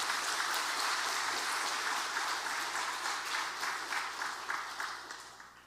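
A church congregation applauds during a Sunday worship service, steady many-handed clapping in a reverberant hall that starts full and gradually tapers off over several seconds.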